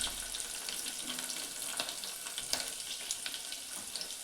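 Cumin seeds crackle and sizzle in hot oil over a low flame, tempered with mustard seeds, garlic, curry leaves and green chilli for moong dal varan; a steady close fizzing with small pops throughout, no voices.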